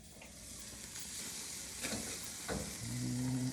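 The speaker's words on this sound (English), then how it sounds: "Yeah, the grill's cooking good." Stuffed oysters topped with oyster dressing sizzling on a hot grill, a steady close hiss and crackle throughout with a few louder pops and a faint tonal hum near the end.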